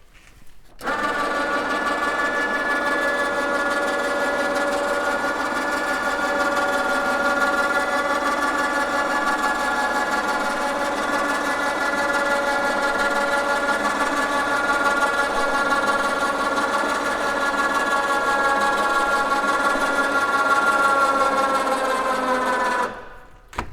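An electric motor on a Bundutrail camping trailer raises the tent, giving a steady, close whirring hum with a constant pitch that runs without pause for over twenty seconds and stops abruptly.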